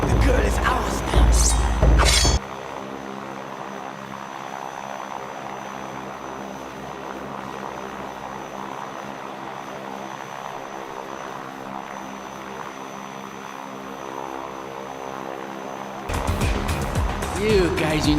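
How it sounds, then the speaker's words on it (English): A fixed-wing propeller airplane engine drones steadily in a Red Steel video game cutscene, a sustained mid-loud hum. It is framed by brief bursts of louder crashing action and voices at the start and end. "you'll never reach that plane"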